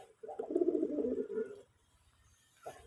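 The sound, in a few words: native domestic pigeon cooing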